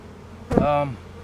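A single honey bee buzzes close by for about half a second near a beehive in hot weather, a sharp harmonic drone rising and then fading against a quiet background.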